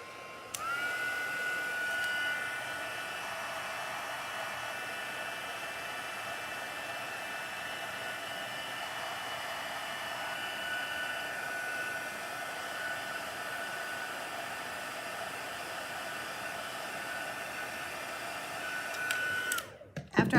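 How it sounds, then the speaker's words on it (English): A heat gun blows steadily to dry ink on cardstock at a stamping craft table, a constant loud whooshing hiss running nearly twenty seconds before clicking off at the end. "Let's try the heat gun now."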